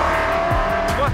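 A classic Cobra race car on the Tour Auto 2022 circuit, its engine roaring loud and close in a short burst with a tire squeal and the pitch shifting as it drives past.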